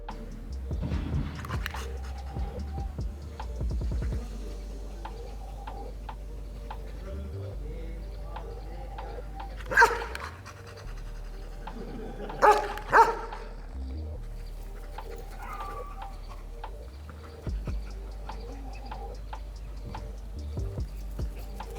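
A trained service dog barks on command during a handler's training session, two or three bursts standing out over a steady low rumble and background noise, with no clear talk.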